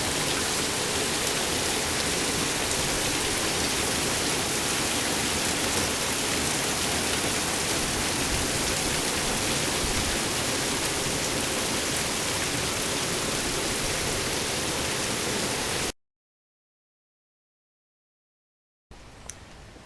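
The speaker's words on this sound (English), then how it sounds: "hopefully this heavy burst of rain will only last for a few more minutes" A heavy burst of rain from Hurricane Irene pours steadily in a city as a dense, loud, unbroken hiss for about sixteen seconds before cutting out abruptly.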